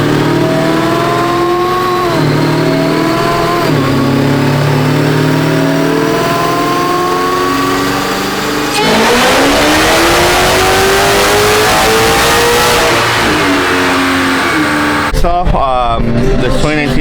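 A 2019 Dodge Charger Scat Pack with a Whipple supercharger, built motor and built transmission revs loudly and close by, its engine pitch climbing and falling through repeated rises, with people talking over it.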